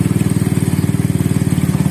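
Freshly assembled Honda CB motorcycle engine with a 68 mm piston and 66 mm stroke, running cold on its first start. It idles steadily and loudly up close, with an even, rapid pulsing beat and no voices.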